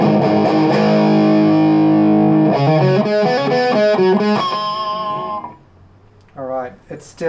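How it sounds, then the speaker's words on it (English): An electric guitar plays through distortion with a Boss NS-2 noise suppressor engaged. Loud sustained chords give way to choppy muted strums, then a clean cut to near-silence before a few more short stabs, with no noise hiss in the gaps. "Switch on the distortion."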